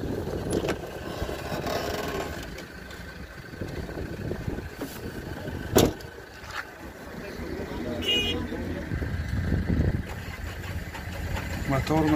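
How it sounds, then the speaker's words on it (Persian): A Musso diesel car engine idles steadily after ten years of standing, with 126,000 km on it; the mid-pitched hum runs continuously at moderate loudness, broken by one brief sharp, horn-like blip. "موتور موسو"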